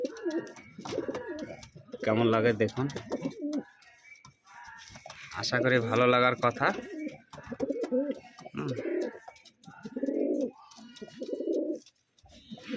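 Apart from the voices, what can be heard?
pigeons cooing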